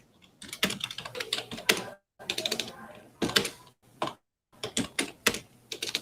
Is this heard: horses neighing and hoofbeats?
no